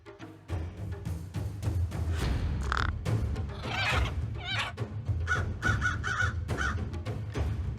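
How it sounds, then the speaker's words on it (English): A crow caws frantically and repeatedly in harsh, rapid bursts against a steady low rumbling background, loud and close. "just that sort of sounds of a crow that's going nuts"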